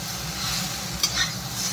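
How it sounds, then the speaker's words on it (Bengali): Mixed vegetables for Bengali shukto, with turmeric, fry in a pan under a soft continuous sizzle, with one brief stirring clatter near the middle and no voices. "একদম সুন্দর করে ভেজে নিতে হবে, অনেকটা টাইম লাগবে এটা ভেজে নিতে হবে শুক্তোর সবজিটা"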